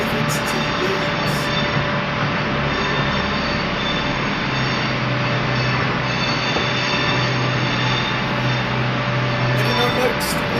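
Trains at Birmingham New Street station, with a loud continuous rumble of rolling stock, steady wheel and motor hum and brief high squeals at the start and end, station noise throughout.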